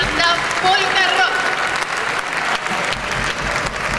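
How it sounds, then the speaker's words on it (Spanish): Audience applause greeting a polka rock band at a live show, a dense, steady wash of clapping filling the room, with faint voices or cheers mixed in near the start. "Les damos un fuerte aplauso"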